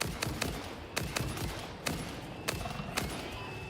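Repeated gunshots ring out in Enter the Gungeon, sharp irregular bursts of video game gunfire cracking over a busy background mix with no voices.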